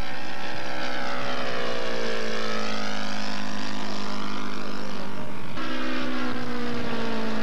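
Engine drone of a large-scale model P-51 Mustang, about 30 pounds, banking around a pylon, a steady buzzing propeller whine that shifts pitch as it passes, loud and continuous with no voices.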